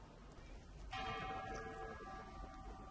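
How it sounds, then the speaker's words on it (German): A bell in the tower of Berlin's Red Town Hall strikes once to open the military ceremony at the 1984 East German parade. The single rich toll rings out and decays slowly over a low outdoor rumble, fairly distant. "Die Glockenschläge vom Turm des Roten Rathauses leiten das militärische Zeremoniell ein."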